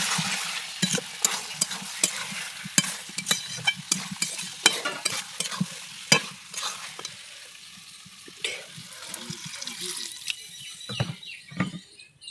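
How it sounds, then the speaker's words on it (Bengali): Meat and spices being stirred in a hot pan, with a quiet steady sizzle broken by repeated sharp scrapes and clicks of a spatula against the metal. "মাংসটা কষাচ্ছি, মশলা দিয়ে কষিয়ে নিলাম"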